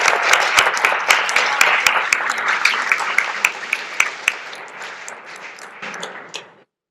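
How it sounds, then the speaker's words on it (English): An audience claps for a sports team being honoured, a full round of applause with sharp individual claps standing out that gradually thins and stops abruptly at the end. "Let's give them a round of applause."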